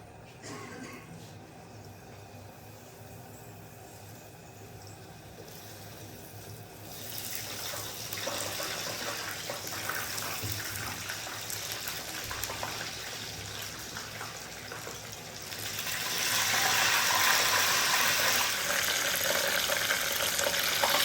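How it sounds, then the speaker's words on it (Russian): Oil sizzles and crackles steadily as chebureki (fried meat pastries) fry in a pan, quieter at first, then growing louder and more intense. "Сейчас мы будем жарить наши чебуреки."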